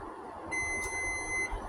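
A kitchen timer beeps with a steady high electronic tone for about a second while homemade strawberry jam sits, heard close over quiet room noise.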